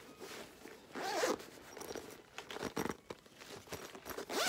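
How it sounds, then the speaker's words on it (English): A camera bag's zipper is pulled open in several quick rasping strokes, close and crisp, mixed with light rustling of fabric. "It has two pockets on the side, a zipper here."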